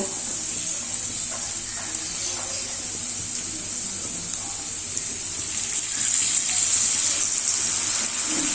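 Water is poured into a pan of egg do pyaza with green chillies and salt, a soft running splash that swells into a fuller, louder gush near the end.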